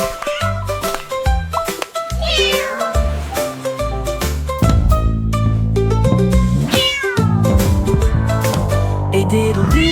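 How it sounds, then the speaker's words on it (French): Loud cat meows, rising and falling, woven into busy electronic music with a driving beat. "Le chat miaula bruyamment"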